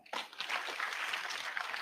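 Audience applauding at a tribute ceremony in Kenya, a dense sustained clapping that swells in quickly and holds steady and fairly loud to the end.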